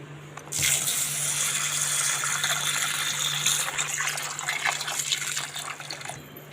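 Soaked urad dal is rinsed under running water in a kitchen, a steady close gush and slosh of water that starts abruptly and fades slightly toward the end.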